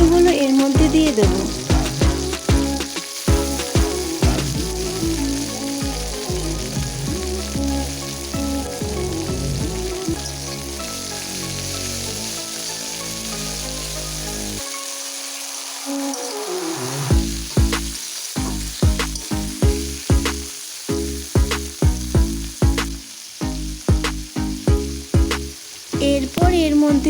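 Chopped tomatoes frying in hot oil with small fish in a pan, a loud steady sizzle with stirring, briefly cut near the middle, then returning with crackling and clatter.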